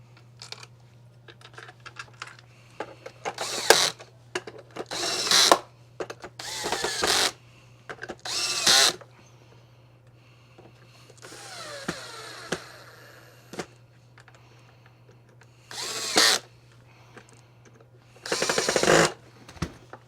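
A power driver drives screws into the bumper covers of a Quantum X vacuum cleaner, giving several short, sharp whirring bursts separated by pauses, close and fairly loud over a steady background hum.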